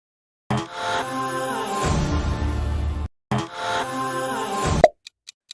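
A Renault car logo sound: two loud, rich tonal swells split by a brief gap, closing on a sharp hit and a few faint clicks.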